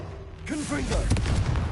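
Blasting Confringo spell from the video game Hogwarts Legacy, a rising magical whoosh followed by a cluster of booming impacts and rumbling bursts amid game effects, with a brief voice-like tone early on.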